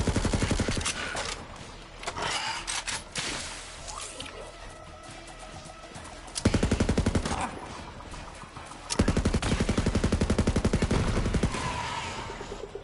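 Rapid automatic fire from a Vladof gun with a weapon shield in Borderlands 3, coming in long, dense bursts that are loud and close, with short pauses between them.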